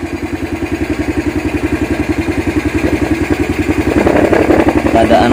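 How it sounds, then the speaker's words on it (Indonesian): A workshop engine starts and settles into a steady, close, loud idle with a rapid even chug, the revs rising slightly toward the end. "kita nyalakan mesinnya dulu"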